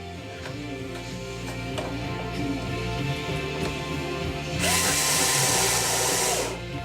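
A power drill drives a screw into a block during a gun build. It whines with a steady motor hum, rises to a louder, harsher spin near the end as the screw runs tight, then cuts off, all close and with no talk.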